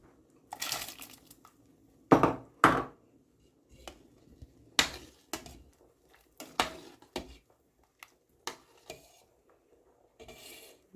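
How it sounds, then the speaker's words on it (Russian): Chopped sweet pepper tipped from a board into a pot of simmering rice and potatoes, heard as a few sharp, close clatters and thuds with softer rustling scrapes between them, alone with no talk. "Перец нарезала и добавляю в кастрюлю."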